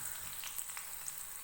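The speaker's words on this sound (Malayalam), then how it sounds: "നന്നായിട്ടൊന്ന് വറുത്തെടുക്കുക" Shallots sizzle and crackle in oil in a pan, a steady, close hiss of frying with no talk.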